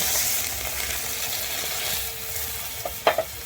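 Water poured into sizzling masala for a fried fish curry makes a loud, close, steady hiss that fades toward the end, broken by a few sharp clatters of a utensil against the pan.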